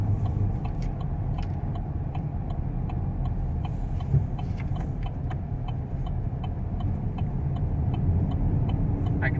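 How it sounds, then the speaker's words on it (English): A 2017 Chevy Silverado pickup cruises down the highway, a steady dense rumble of engine and road noise filling the cabin, with faint rattles and clicks ticking over it and no one speaking. "And we're gonna hit the highway with this truck."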